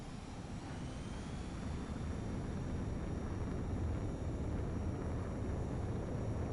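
Fighter jet engine roars during takeoff in Ace Combat 7, a steady, deep, rumbling thrust that holds at a constant loud level throughout with a faint high whine on top, and no voices.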